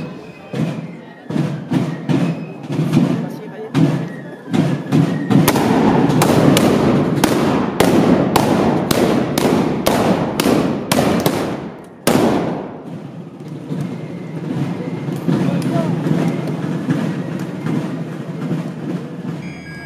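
Ceremonial volley of gunfire at the Bravade festival in Barjols, Provence: a rapid run of loud sharp reports, many shots fired close together in a ragged roll over several seconds, then a final blast followed by crowd murmur.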